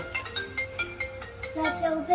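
A melodic phone ringtone plays a short repeating tune of bright notes, fairly quiet, with no talking over it.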